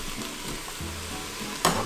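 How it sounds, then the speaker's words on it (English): Sliced mushrooms and onions sautéing oil-free in an Instant Pot for a vegan risotto: a steady close sizzle with soft stirring scrapes, and a brief louder clatter near the end. "So we'll scoop these up and get those sauteing."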